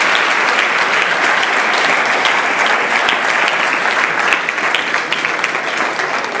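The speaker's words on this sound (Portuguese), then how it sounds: "peço uma salva de palmas" Loud, dense applause fills a presentation hall as an audience claps for a company team, a continuous close wash of many hands that holds steady without pause.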